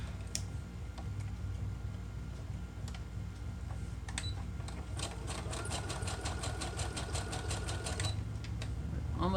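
A sewing machine zigzag-stitches through a paper patchwork wallet. Close, rapid bursts of stitching ride over a steady motor hum, with a longer continuous run near the end.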